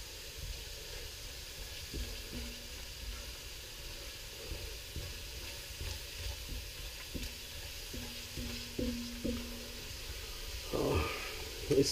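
Sambal cooks in hot oil for a spicy tangy Malaysian fish stew, a low steady sizzle and hiss with occasional soft stirring taps, close by and without talk.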